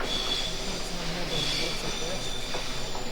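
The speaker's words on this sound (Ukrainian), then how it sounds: "Це звуки метро." Metro train rumble and rail squeal from the video game You Are Empty, a steady low roar with faint high-pitched wheel whines, heard under a voice speaking briefly.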